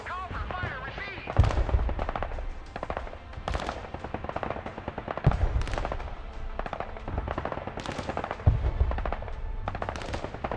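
Machine gun bursts and scattered gunshots fill a battle in the video game Broken Arrow, with repeated loud rattling volleys and heavier impacts in a busy, layered combat soundscape.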